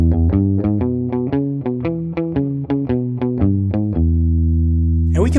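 A basic blues boogie rhythm pattern chugs steadily on an electric guitar with a slightly driven tone. Even, repeated note pairs run for about four seconds, then a final low note rings out as a brief noisy scrape enters at the end.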